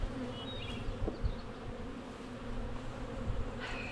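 Honeybees drone in a dense, continuous buzz at a full hive during a hive inspection, the swarm close and steady with occasional individual bees flying nearer.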